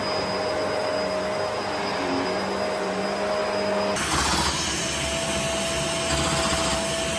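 Bissell Surface Sense vacuum cleaner running on carpet, a steady whining motor drone with a constant tone that shifts partway through as the suction changes, with no talk.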